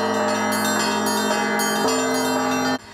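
Golden-domed bells of an Orthodox cathedral in central Sochi peal loudly and continuously during a Baptism of Rus celebration, with layered overlapping strikes that ring out before cutting off near the end.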